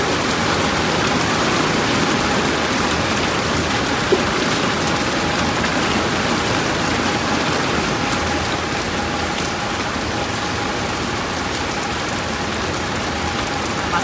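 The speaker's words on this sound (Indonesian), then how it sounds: "tapi pas hujan deras banget." Heavy rain pours steadily and loudly on a bus during a trip, a dense unbroken hiss lasting the whole stretch with a faint engine hum beneath and no voices.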